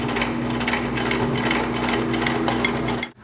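Sewing machine running a straight stitch through the fabric of a laptop sleeve, a steady continuous mechanical whir with fast rapid needle clatter, close and loud, running alone until it stops at the end.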